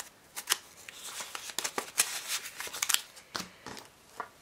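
Paper cash bills are counted out of a spending envelope, each crisp flick and rustle landing close and quiet in an uneven rhythm, with no talking.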